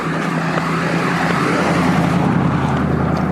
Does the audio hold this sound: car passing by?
yes